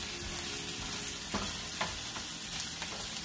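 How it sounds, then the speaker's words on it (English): Food sautéing in a pan fills the space with a steady, close sizzle and occasional soft stirring scrapes, while water boils for pasta nearby. No one speaks. "Make sure everything gets real nice and sauteed."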